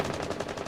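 A rapid burst of automatic gunfire from a gun in an esports shooter game, about seven quick evenly spaced shots in under a second, moderately loud and alone.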